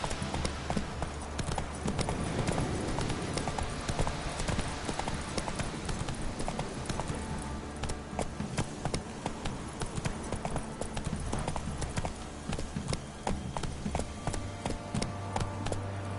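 A horse gallops in The Witcher 3, its hooves clip-clopping in a fast, continuous rhythm at close range over the game's ambient sound.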